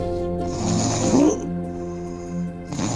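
A man imitates his grandmother's snoring with his voice, giving a rhythmic, rasping snore that rises into a louder guttural rattle and then eases into a softer breathy snort.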